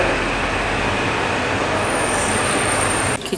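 Steady broadband rumble inside a moving train on a trip through Türkiye, a continuous interior drone with a faint high whine, ending abruptly near the close with a brief knock.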